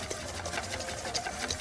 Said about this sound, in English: Now we're going to whip this together, and you'll see how it starts to get nice and creamy.